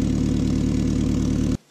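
A first-generation Toyota RAV4 idles with a leaking exhaust downpipe, giving a loud, steady puttering drone with a regular ticking pulse that cuts off abruptly near the end.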